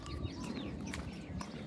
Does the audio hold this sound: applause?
no